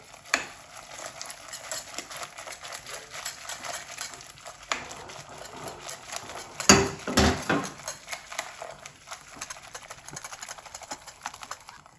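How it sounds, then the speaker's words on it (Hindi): Egg is stirred into a pot of chicken corn soup: soft, continuous scraping and light clinks close by. One louder clatter of utensil on pot comes midway, and no one talks. "साथ साथ डालते जाएंगे, साथ साथ मिक्स करेंगे"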